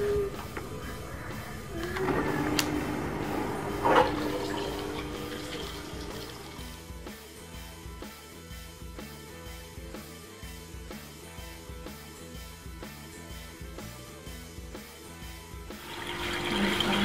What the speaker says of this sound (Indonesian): Sekarang kita hidupkan pompanya.